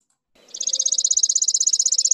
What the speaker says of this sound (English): Chipping Sparrow.